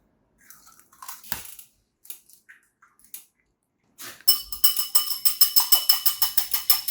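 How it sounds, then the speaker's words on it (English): Two eggs are whisked in a bowl for scone batter, quiet cracking and tapping at first, then a fast, steady run of bright metallic clinks as the whisk hits the bowl's sides. "we're going to grab our 2 eggs and beat them and whisk them up"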